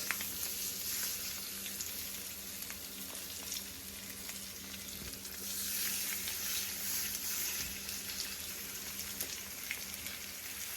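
Pieces of salmon sear in a pan on medium-high heat, giving a steady, even, hissing sizzle up close that continues throughout without any voices.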